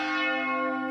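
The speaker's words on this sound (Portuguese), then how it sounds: "o carrilhão da Basílica Nacional de Aparecida, que o Papa admirou, reverberaram a dor pela perda da igreja" A carillon bell from the Basilica of Aparecida in Brazil rings out in one sustained, resonant tone with a rich shimmer of overtones, heard alone without talk.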